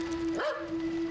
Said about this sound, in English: Oh, I forgot there was a dog.